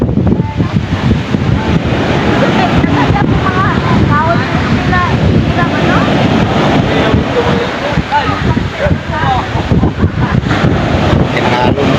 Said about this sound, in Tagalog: Lakas ng hangin. Laki ng alon, mga lods.